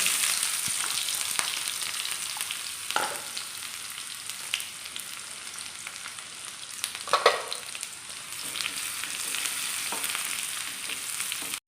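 Shallots and mustard seeds frying in oil for a Kerala erissery, a steady close sizzle with scattered small pops and crackles from the seeds.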